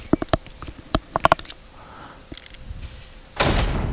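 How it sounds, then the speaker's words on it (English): Door opening in the Resident Evil 4 video game: a series of sharp knocks and thuds, then a short quiet, followed by a heavy rushing swell as the door swings open. "continue on through the door"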